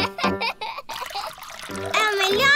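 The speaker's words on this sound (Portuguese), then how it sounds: "O dinossauro do George pode ser o bule de chá. Sim. Vamos enchê-lo com água." In a Peppa Pig cartoon, water is poured into a toy dinosaur used as a teapot, making a short bubbly trickle that sits between and under animated children's voices chattering.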